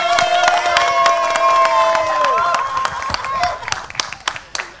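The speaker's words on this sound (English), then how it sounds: "Let's have a huge round of applause for them as well." Audience applause and cheering at a film trailer launch event, crowd clapping and whoops rising under a sustained music tone and amplified voices, with scattered sharp claps continuing as the noise settles.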